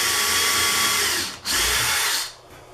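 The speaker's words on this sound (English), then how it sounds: "I'm going to go ahead and drill in the corner here." A power drill bores into the corner of a wooden panel for a screen printing drying box, a loud steady whir that dips briefly mid-way, surges again, then winds down.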